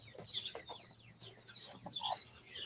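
Chickens cluck and murmur softly nearby in short, scattered bursts, with a low hum in the background.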